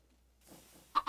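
Chickens freshly hatched from eggs in a blocky survival video game, giving two short, fairly loud clucks at the end after a quiet stretch with low faint rustling.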